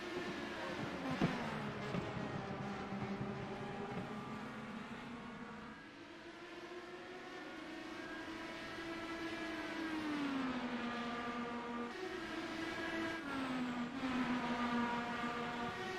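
IndyCar race cars scream around the Gateway oval in a racing video game, engine notes rising and falling in long sustained whines as cars pass, continuous and fairly loud with no talk.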